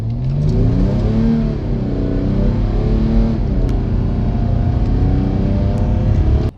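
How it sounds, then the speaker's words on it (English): A diesel Porsche Cayenne in sport mode pulls hard in third gear, its engine note rising steadily and loud from close by for several seconds, with no one speaking. "I'm now going to put it in sport mode and just downshift to third gear."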